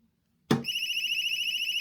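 A Vaultek MX series safe, shut with impact detection armed, is struck with a sharp knock that sets off a loud, steady high-pitched electronic alarm beeping continuously and close by.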